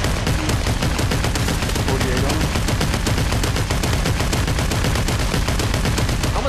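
Sustained rapid automatic gunfire in the VR shooter Population One, loud and close, with dense repeating shots that seem to speed up and run almost without break.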